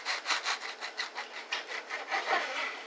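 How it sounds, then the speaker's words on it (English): A bread knife saws through a loaf of banana bread with steady back-and-forth strokes, about a dozen crisp rasping passes heard close up, with no talking. "I'm going to cut the other one so I can show you what it looks like inside. And for this you just need a bread knife"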